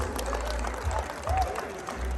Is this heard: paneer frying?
no